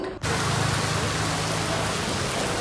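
Steady rain, a dense broadband hiss of falling water that starts abruptly and stays constant and fairly loud, with no voices.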